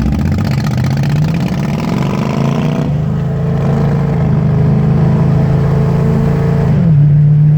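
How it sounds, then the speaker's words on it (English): A Harley motorcycle idles beside a modified Ford Mustang on a city street. A loud, steady engine rumble fills the clip, its pitch rising and then dropping back, with no voices. "There's a Harley next to me, so it'll be a little loud."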